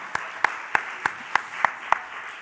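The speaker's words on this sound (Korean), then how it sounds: "박수." A church congregation claps in a quick, steady rhythm, about seven sharp, evenly spaced hand claps over a couple of seconds, moderately loud with no talking.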